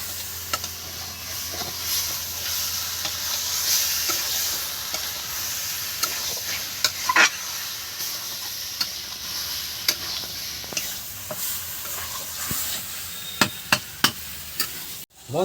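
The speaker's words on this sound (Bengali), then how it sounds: "এবার এই মশলার সঙ্গে খুব ভালো করে একদম নেড়ে চেড়ে তৈরি করে নেব।" A pan of chicken curry masala with potatoes sizzles and fries steadily while a utensil stirs and scrapes it with occasional sharp clicks, close and alone with no voices.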